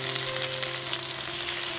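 Poppy seed and green chili paste fries with potato and drumstick stems in a pan, making a continuous, close sizzling hiss under a faint steady hum.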